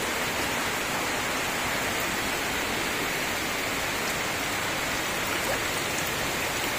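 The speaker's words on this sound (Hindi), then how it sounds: "देखिए कितने फोर्स के साथ पानी है, कितनी तेजी के साथ आ रहा है।" Floodwater after heavy rain rushes through a residential colony and into houses, a dense, steady roar of moving water filling the scene with no break.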